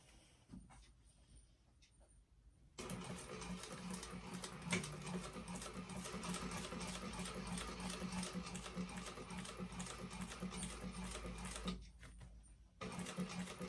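Sewing machine top stitching a tote bag, a steady rapid mechanical whir with fine ticking stitches running continuously for about ten seconds, close and moderately quiet, with brief pauses at start and end.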